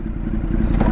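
A big motorcycle engine rumbles steadily up close, a loud continuous low drone with slight clatter, no talking over it.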